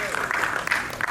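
An audience applauds steadily with a dense patter of clapping that holds at one level for about a second.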